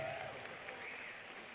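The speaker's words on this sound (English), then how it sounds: "how about a well-deserved round of applause for both of our ring warriors?" Crowd applause for two boxers after a bout at a boxing event, a quiet, distant wash of clapping heard briefly and evenly from a large arena.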